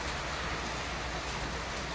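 Heavy morning rain falls as a steady, dense hiss that fills the whole clip without letup, with no voices over it.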